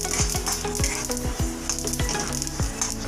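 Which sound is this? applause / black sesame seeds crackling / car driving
black sesame seeds crackling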